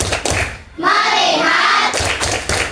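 A group of people claps hands in rhythmic bursts, sharp close claps separated by short pauses, with a longer sustained stretch of clapping in the middle and faint voices around it.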